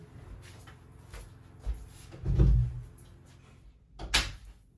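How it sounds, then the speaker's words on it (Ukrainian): A door is shut indoors in a home, with soft shuffling and handling noises leading to a muffled thud and a sharper click near the end, all fairly quiet. "Я закрию швиденько двері."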